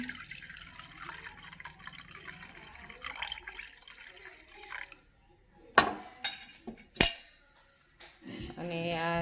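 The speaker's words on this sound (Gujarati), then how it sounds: "હવે આ સર્વિંગ બાઉલ છે એમાં આપણે પાણીને કાઢી લઈશું" Pani puri water being ladled into a serving bowl in a home kitchen, with soft liquid splashing and a few sharp metallic clinks of a utensil against the bowl near the end.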